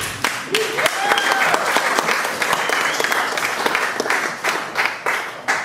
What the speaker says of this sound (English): Can we get a big round of applause for everybody that's gone up so far and performed for this stuff?